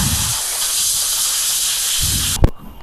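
A loud, steady blast of compressed air hisses continuously at close range, blowing water off a washed motorcycle, then cuts off abruptly with a short clunk near the end.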